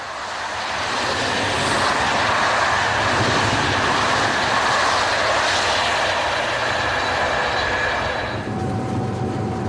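Express train on the Paris–Dijon line travelling at speed near Villeneuve-Saint-Georges, a loud steady rushing roar of wheels and wind that holds throughout, with a faint tone near the end.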